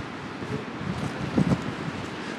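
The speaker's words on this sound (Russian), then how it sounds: "Такой проницательный, холодный ветерок." Cold, penetrating northeast wind at the central beach in Anapa in winter, a soft steady whoosh with faint rustling, fairly quiet and continuous, swelling slightly midway.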